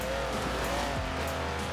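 Mercedes G63 6x6 driving in Forza Horizon 4, a steady, loud engine drone with a shifting pitch and a hint of tire noise, continuous and close throughout the short stretch.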